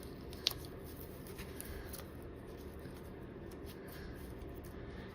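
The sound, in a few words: scissors cutting paper doilies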